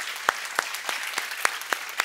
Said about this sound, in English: can we give the Lord a big hand clap?